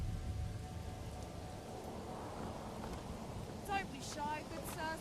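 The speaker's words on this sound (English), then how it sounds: "Rain again." Steady rain falls in the medieval city-building game Manor Lords, a soft continuous hiss that a voice briefly talks over.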